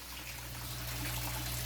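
Water from a fish pond trickles and pours into an Australian red claw crayfish tank, a faint, steady wash under a low background hum, with no voices.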